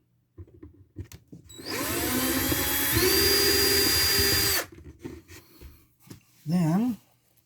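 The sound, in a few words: drill drilling for child safety latch installation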